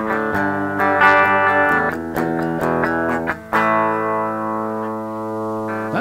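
Clean electric guitar, a cheap used instrument played with no wah pedal, bright picked chords and notes ringing out, close and loud, with no talking.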